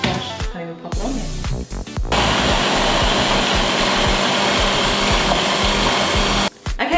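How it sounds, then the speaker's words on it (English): Kitchen blender whirring through protein pancake batter made with rolled oats, starting with short stop-start pulses, then running loud and steady for several seconds before cutting off abruptly near the end. "I'm going to blend that together"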